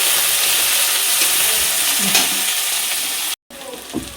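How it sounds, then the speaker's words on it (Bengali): Steady crackling sizzle of onions frying in hot oil, loud and close, with a brief dropout near the end and a few soft stirring sounds. "পেঁয়াজটা একটু ভাজা ভাজা করে নেই"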